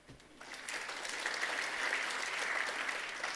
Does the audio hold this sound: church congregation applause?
yes